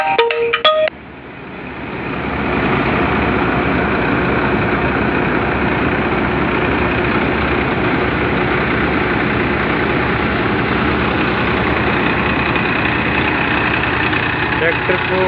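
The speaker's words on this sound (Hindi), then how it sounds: "ट्रैक्टर को कोई लोड नहीं है, बिल्कुल देख लो 1800 RPM पर चल रहा है।" A Mayur thresher run by an unloaded tractor at 1800 RPM gives a steady, loud mechanical drone that settles into a constant roar after a brief stutter at the start.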